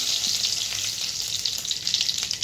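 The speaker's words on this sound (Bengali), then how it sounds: "এক এক করে সব ফোড়নগুলো দিয়ে দিই" Whole spices such as bay leaf, cumin, cardamom, cinnamon, cloves and dried chillies frying in ghee for a vegetarian Kashmiri aloo dum, giving a steady, close, bright sizzle with small crackles throughout and no talking.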